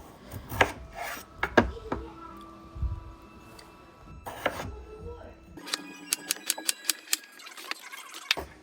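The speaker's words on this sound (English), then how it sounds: "I wanted to chop them about medium to small size." A knife chops peeled potatoes into medium to small pieces on a cutting board, with scattered sharp knocks and scraping rubs, then a quicker run of distinct close taps toward the end, quiet and unaccompanied.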